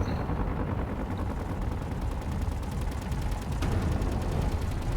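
Gunfire in the Space Engineers survival game: a continuous rapid rattle of automatic weapons fire against a dense mechanical background, steady and fairly loud throughout, with a sharp impact partway through.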